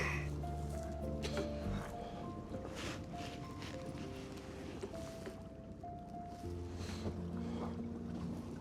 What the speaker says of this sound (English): Running the engine all the time, backing up.